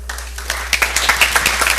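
Applause from a school board meeting audience honoring the month's champions of change, a short burst of scattered clapping that starts sparse and thickens into steady, moderately loud hand claps.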